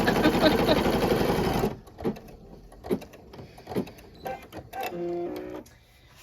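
An embroidery machine stitches with a dense, rapid mechanical whirr for under two seconds, then stops, leaving scattered clicks, fabric handling and a brief motorized whine.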